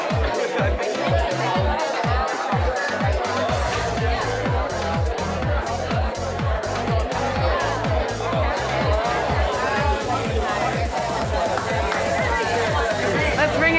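Audience members turn to their neighbors and chat at a health and active-lifestyle event, filling the room with a dense, continuous hubbub of overlapping voices. No single voice stands out.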